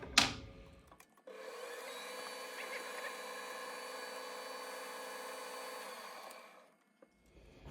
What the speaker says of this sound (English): Now I'm going to drill the hole first.